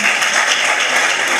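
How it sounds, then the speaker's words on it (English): An audience at a talk on TReND activities and brain functions bursts into dense, sustained applause, loud and close throughout. "Please, a round of applause to him,"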